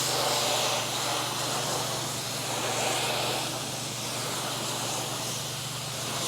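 A power washer rinses the wall of a large commercial building outdoors, a steady loud rushing hiss of water spray with a constant motor drone beneath it, holding without pause and with no voices.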